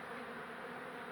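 A dense swarm of bees drones inside a bathroom hive, a thick continuous buzz at steady level, close and alone without any voices.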